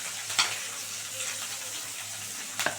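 Onion, garlic and green chilli fry in a pan with a continuous, even sizzle, close and moderately loud, with two brief sharper crackles or stirs near the start and the end.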